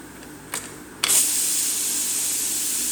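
A stovetop pressure cooker that only whistles after being tapped gives a short puff, then bursts into a loud, steady jet of hissing steam that keeps going.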